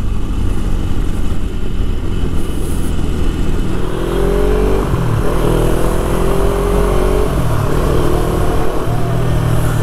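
A Harley Davidson 1200 Custom motorcycle runs loud and close throughout, its engine rising through a few revving sweeps that climb in pitch over a steady throbbing rumble, with no talking.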